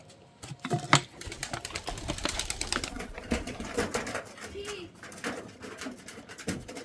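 Pigeons being fed coo softly amid a busy patter of pecking clicks and rustles, fairly close, with faint voices now and then.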